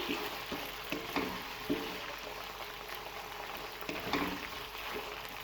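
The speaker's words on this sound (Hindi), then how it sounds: "अब इनको तकरीबन मैं 10 मिनट के लिए मीडियम फ्लेम पे फ्राई करूँगी ताकि ये चिकन और मटर दोनों अच्छी तरह से गल जाएं" Chicken and peas frying in a pan over a medium flame, a steady close sizzle with soft bubbling and occasional light stirring scrapes, continuous throughout and no voices.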